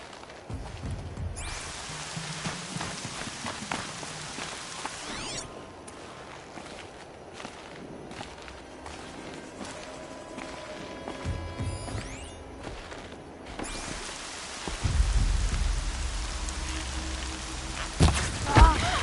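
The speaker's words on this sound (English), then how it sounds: "Lion's thirsty for rain." Rain falls steadily in Horizon, the video game, as a broad hiss mixed with footsteps and scattered thuds, swelling louder toward the end.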